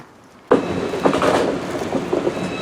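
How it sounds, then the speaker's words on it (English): Loud rumbling railway noise with clattering and a steady hum at busy Düsseldorf train station, constant after a brief quiet start. "welcome to Düsseldorf Station. A very busy, very noisy Düsseldorf station."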